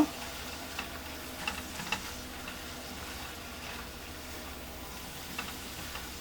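Chili powder being stirred into spiced coral fish (bhetki) in a frying pan for dopiaza, with a steady sizzle of frying and occasional soft scrapes of the spoon, close and moderately loud, no talking.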